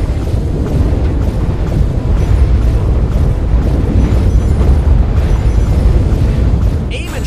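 Mines blowing up in Sonic Boom: Rise of Lyric, a continuous rumbling wall of loud explosions and booms running the whole stretch, with game voices mixed in.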